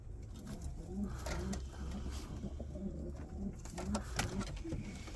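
Pigeons coo softly in repeated low murmurs amid rustling and fluttering, with faint voices in the background.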